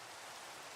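Steady rain hissing in a Minecraft game, a dense, even wash of falling drops with no breaks, fairly faint and without any talking over it.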